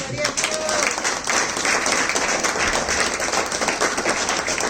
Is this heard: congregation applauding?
yes